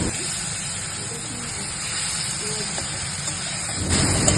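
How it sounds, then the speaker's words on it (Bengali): Onion, garlic and ginger paste sizzles in hot oil in a wok left from frying fish, a steady hissing crackle that holds evenly and swells slightly near the end. "কড়াইতে যে তেল ছিল তার মধ্যে আগে থেকে বেটে রাখা পেঁয়াজ রসুন আদা বাটা দিয়ে দিলাম"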